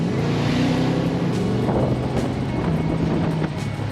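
Car engine revving near the microphone, a loud rough rumbling roar with rising and falling pitch, steady throughout with some wind buffeting.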